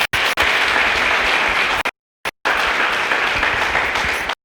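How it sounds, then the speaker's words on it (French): Loud burst of applause from a crowd at an inaugural lecture of a health school in Libreville, cutting out briefly before resuming with sustained clapping. "On peut applaudir pour lui."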